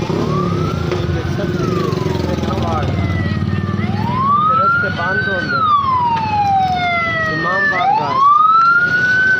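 Ambulance siren wailing through city traffic, its loud rising and falling sweeps repeating over a constant bed of road noise, with someone talking over it.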